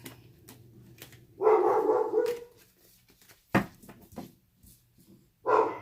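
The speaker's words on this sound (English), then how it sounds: "the big dogs are in the living room, and I don't know what they're barking at" Several dogs bark in loud, separate bursts indoors in a home with a kennel, foster pups and big dogs in the living room, with short gaps of quiet between barks.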